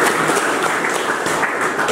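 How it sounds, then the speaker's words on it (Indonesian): An audience at a prison staff meeting breaks into applause, a loud, dense wash of many people clapping continuously from start to finish. "tepuk tangan dulu untuk Timika"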